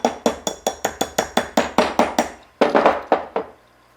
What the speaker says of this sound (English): just take your slide as a little hammer